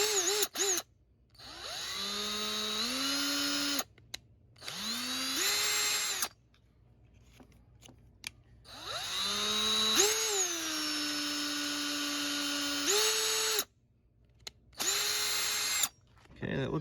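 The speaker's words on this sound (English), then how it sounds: "I went with a slightly larger drill" A power drill bores into a plastic ground effect, whining in several loud bursts that rise in pitch as the motor spins up and then hold steady, separated by short pauses, with a voice talking now and then.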